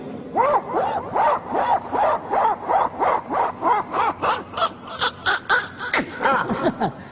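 A voice mimics a blade sawing through aluminium channel, a close series of rhythmic rasping strokes with a whining, arching pitch on each pass, steady and fairly loud for several seconds.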